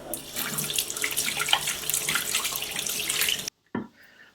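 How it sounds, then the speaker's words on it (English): Tap water runs steadily into a sink during handwashing with soap, a loud continuous splash that stops abruptly near the end, followed by a brief spurt and drips. "Let's wash our hands with a nice soap so it's nice and clean."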